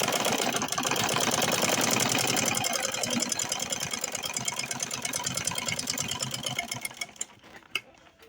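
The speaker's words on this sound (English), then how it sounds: "So I'm top stitching on the wrong side." Electric sewing machine running at a steady rapid stitch while top stitching a zipper purse, a close mechanical whir that slows and stops near the end.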